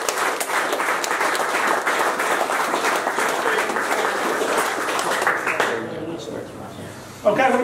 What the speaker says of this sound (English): Big round of applause, please, for Stephen and Will and Daniel.